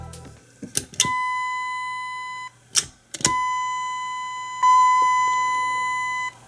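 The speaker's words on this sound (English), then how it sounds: "So this one rings a bell" Dover elevator call button chime striking a bell, three bright ringing dings with clicks before each one, every tone ringing out and slowly fading, loud and close with no talk.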